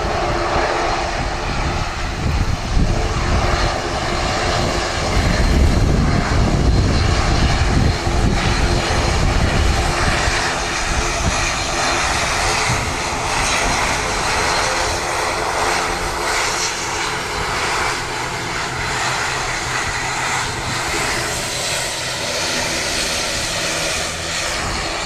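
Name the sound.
aircraft engine at Wellington Airport, ATR 72-600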